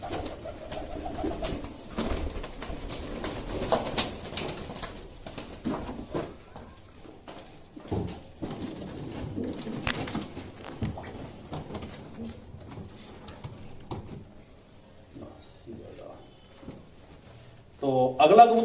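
Pigeons in a loft give soft, scattered coos and wing flutters under steady close talk, with a louder burst of fluttering near the end.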